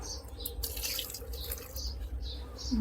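While a Lao fish dish cooks, water is poured into the pot with a soft, faint splashing and trickling across the short moment.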